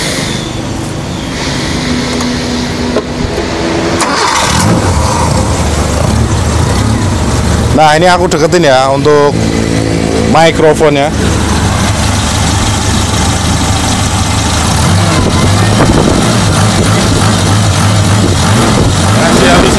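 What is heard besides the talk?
Suzuki Katana car engine idling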